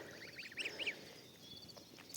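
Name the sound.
geese and turkeys feeding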